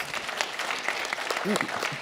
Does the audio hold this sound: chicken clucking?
no